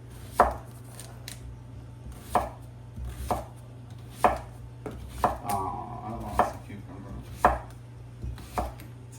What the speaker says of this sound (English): I don't tend to cut the cucumbers in half because I don't like them in circles. So I'm just going to cut them carefully.